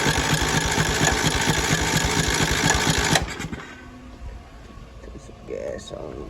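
A $400 yard-sale zero-turn mower engine cranks over on a freshly connected battery with a loud, rapid mechanical chatter for about three seconds, then stops, leaving quieter background sounds and a voice.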